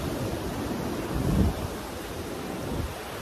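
Steady, loud roar of sea waves and strong wind at a beach after rain, with a swelling surge of surf near the middle and continuous wind rumble throughout.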